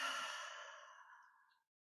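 A single slow, breathy exhale during a guided breathing exercise, soft and close, starting at full strength and fading steadily to silence.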